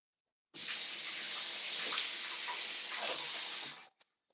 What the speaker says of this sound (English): Wash my blade again.